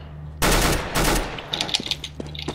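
Automatic gunfire from the video game CS:GO: two loud, dense bursts of rapid shots close up, followed by softer scattered clicks and faint game sounds.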